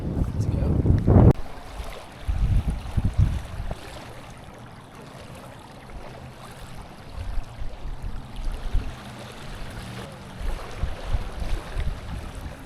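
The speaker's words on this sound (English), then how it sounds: "The wind really picked up." Wind blows hard across a pond, a steady low rumble and buffeting against the microphone with loud gusts near the start and then a lighter, fluctuating rush.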